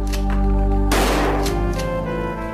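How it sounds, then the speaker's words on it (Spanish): Gunfire as a dramatized sound effect for a double murder in which 13 shots were fired, a sharp loud report over a sustained droning background, with further fainter bursts trailing after. "Lyle y Eric les acribillaron con 13 disparos."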